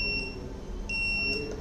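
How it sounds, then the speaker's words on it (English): An IoT notice board kit's buzzer beeps on startup, sounding two short high-pitched tones followed by a couple more brief beeps over a low background hum, with no talking. "Then the buzzer will be on and off 2 times."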